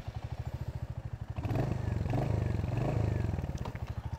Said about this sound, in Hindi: अब इसको इंजन स्टार्ट करते हैं